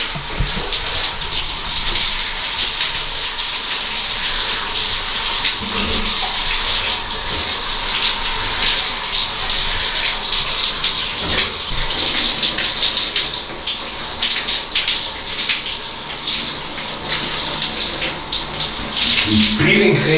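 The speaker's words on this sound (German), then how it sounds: "Hui, schön kaltes Wasser." Cold water runs steadily and loudly from a tap, a continuous hissing gush that lasts throughout, with a voice briefly audible near the end.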